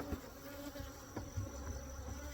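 Honey bees buzz around extracted wet hive frames and supers, a continuous close drone of many insects with small fluctuations and no talk.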